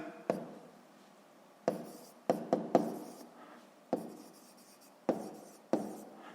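Chalk or pen writing out a sixth-grade math exercise solution, a few sharp taps followed by short scratchy strokes spaced irregularly, close and fairly quiet with no talking.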